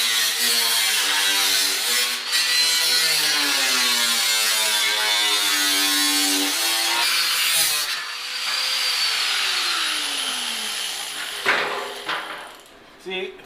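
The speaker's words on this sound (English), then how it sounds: "we're going to take a cut-off wheel, we're going to cut that lip out" A cut-off wheel grinds through a metal lip on a Cobalt SS car during a rear axle swap, a loud continuous high whine with shifting pitch sweeps as the wheel bites and slows, easing off near the end.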